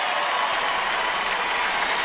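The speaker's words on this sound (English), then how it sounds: "the round of applause you're hearing is Barry Zito is headed to the bullpen" Applause from a baseball stadium crowd rises for pitcher Barry Zito heading to the bullpen, a steady dense clapping wash that stays loud and even throughout.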